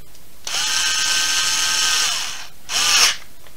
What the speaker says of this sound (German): Das Teil wieder aufgeschraubt hier.